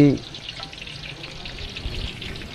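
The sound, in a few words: onions frying in ghee in a cooking pot (deg)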